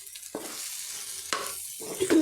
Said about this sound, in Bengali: এটা একটু ভালো করে আমি ভেজে দেবো